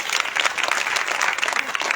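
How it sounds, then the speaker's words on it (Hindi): Audience applause at a kavi sammelan poetry gathering in Morena, a steady two-second round of dense clapping from a crowd, moderately loud with no speech over it. "आप सब भी अपने सम्मान में एक बार तालियां बजा सकते।"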